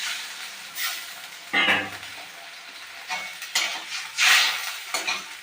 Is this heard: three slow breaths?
no